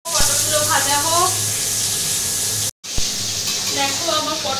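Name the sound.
pointed gourd (potol) frying in a pan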